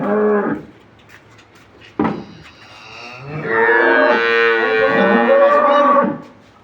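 A dairy cow at a cattle market lows loudly and close by, with one short moo, a brief grunt, then a long, drawn-out bellow lasting several seconds.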